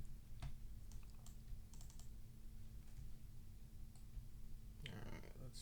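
Computer keyboard keys click in scattered single taps and short bursts, ending in a quick flurry, faint over a low steady hum.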